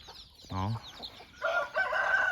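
Chickens at a hillside village near Mae Sariang cluck close by, a rooster crowing briefly among them, then a busier burst of clucking and squawks.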